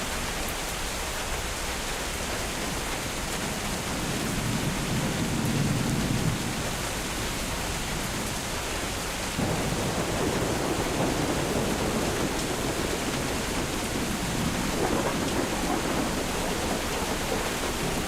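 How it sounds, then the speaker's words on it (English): Steady rain and thunderstorm sound effect played over a paused Euro 2024 Germany vs Denmark live match stream, a continuous broadband hiss of rainfall with low rumbling swells of thunder, loud and unbroken, no talk. "Can I do any rain sounds?"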